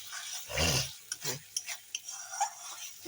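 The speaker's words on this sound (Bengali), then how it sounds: "মশলাটা এখন কত সুন্দর কষানো হচ্ছে উপর দিয়ে তেল বেরিয়ে গেছে" Spice masala for a chicken ghugni being stirred and fried in a pan, a loud scrape near the start followed by a series of short stirring strokes and clinks over a soft sizzle.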